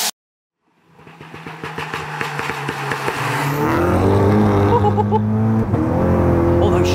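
A Stage 3 tuned MK6 Golf GTI accelerates hard from a standstill, its engine note climbing loudly through quick, crisp gear shifts, then settling into a steady, droning cruise, heard from inside the car.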